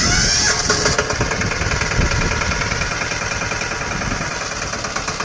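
Farm tractor engine cranking into life with a brief high whine, then settling into a loud, close, steady chugging idle with rhythmic knocking.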